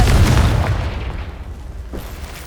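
A Confringo spell explodes in Hogwarts Legacy with a loud, deep boom right at the start, then rumbles and slowly fades over the next couple of seconds, with a small second impact near the end.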